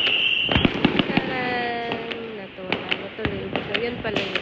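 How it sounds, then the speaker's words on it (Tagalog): Loud fireworks bursting during Chinese New Year, a rapid series of sharp cracks and bangs at close to mid distance, with a person speaking between the blasts. "Grabe yung putok."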